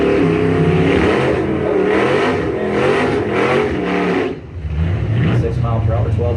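Drag race cars, a Mopar against a Monte Carlo, launch and accelerate hard down the strip in a loud, pulsing engine roar that cuts off sharply near the end, with a track announcer talking over it.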